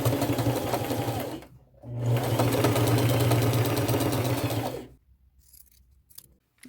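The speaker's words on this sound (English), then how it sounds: "I'm going to use my gold colored thread, straight stitch, and just stay close to the edges" Sewing machine running a straight stitch in gold thread along fabric edges, two steady whirring bursts with a short pause between, then quiet with faint handling noises.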